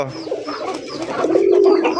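Pigeons coo close by, a few soft throaty calls rising into a sustained low coo near the end.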